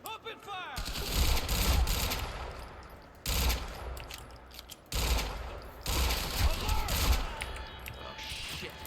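Sustained bursts of automatic gunfire crackle in the shooter game Quantum Break during a garage firefight, loud rapid fusillades broken by short gaps, with voices calling out over them.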